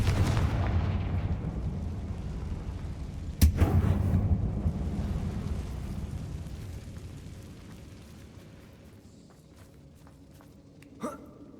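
A Confringo explosion spell going off in Hogwarts Legacy on PS5: one sudden sharp blast that leaves a long rumbling decay, then a smaller second hit near the end, with no voices.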